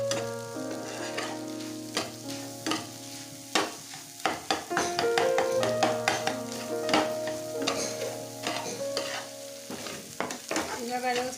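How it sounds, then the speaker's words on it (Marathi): Egg bhurji frying in a pan while being stirred, a steady sizzle broken by repeated scraping and tapping strokes of a spatula, close and clear with no talk. "बघा आपण याला व्यवस्थित हलवून घ्यायचं, आपला अंडा कुठेही कच्चं राहिलं नाही पाहिजे।"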